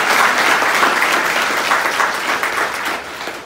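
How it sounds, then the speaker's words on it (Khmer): Loud, sustained applause from an audience at a closing ceremony, many hands clapping together in a dense, even wash that fades slightly at the end. "សូមផ្ទះដៃថ្វាយព្រះអង្គអស់គ្នា"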